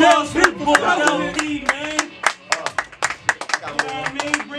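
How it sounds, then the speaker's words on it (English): Studio audience clapping on a hip-hop radio show, a loose burst of sharp, uneven handclaps that thins toward the end, with voices talking over it. "Let me get a round of applause for people."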